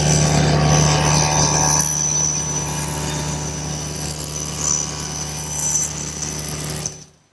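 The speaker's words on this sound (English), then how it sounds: "Now the first step is to just cut through this leg." A table saw cuts partway through a wooden leg for a standing mirror, giving a loud, steady motor drone and blade whine close by that runs for several seconds before cutting off abruptly.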